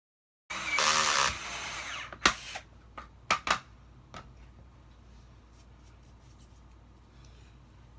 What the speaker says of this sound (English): put the drill bit right in there